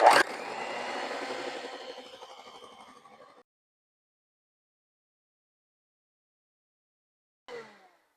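An electric mixer whirs loudly as it whips cream while gelatin mixture is added. The motor hum fades over about three seconds and stops. After a long silence, a brief whir sounds near the end.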